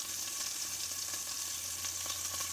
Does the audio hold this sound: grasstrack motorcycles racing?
no